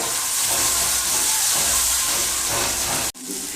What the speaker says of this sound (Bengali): আর রসুন দিয়ে দিলাম দিয়ে দিলাম টমেটো দিয়ে ভাজবো ভালো করে